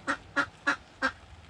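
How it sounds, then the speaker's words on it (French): A hen gives four odd, evenly spaced honking calls, each short and clipped, fairly quiet and close with no other sounds around them. "elle fait un bruit bizarre cette poule"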